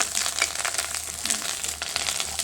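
Onion, garlic and curry leaves fry in oil in a pan over a wood stove, a steady close sizzle and crackle with light stirring throughout.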